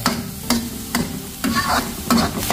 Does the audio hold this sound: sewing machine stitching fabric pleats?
no